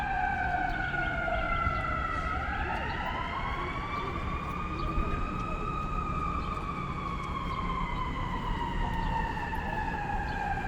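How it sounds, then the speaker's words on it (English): A wailing fire truck siren sweeps up and down steadily, loud and continuous over road rumble as the vehicle passes close by on Yonge Street in Toronto. "Oh, that's a fire truck. It's heading southbound."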